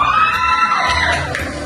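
A group of people shouting together at full volume in a team shouting contest, a sustained loud crowd roar of voices with no gaps.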